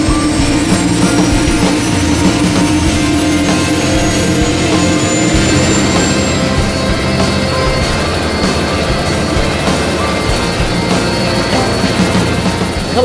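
Helicopter flight from Mitchell Falls in the Kimberley, heard as a steady, loud rotor and turbine drone that fills the whole stretch with a constant, even roar and no voices.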